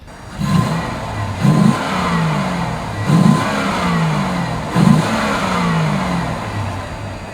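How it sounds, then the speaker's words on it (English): A 1966 Pontiac GTO convertible with a fuel-injected LS1 V8 and dual-muffler exhaust starts and settles into a loud, close idle, punctuated by four sharp throttle blips spaced a second or so apart. "You just hit the key and it fires right up."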